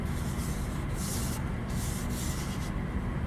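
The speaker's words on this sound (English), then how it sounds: "what I'm really looking for is nice long sand scratches through this repair area that slowly feather out into the steel" Hand sanding of plastic body filler over a steel repair area with sandpaper, a continuous dense abrasive scratching with rhythmic back-and-forth strokes, close and steady, with no talk.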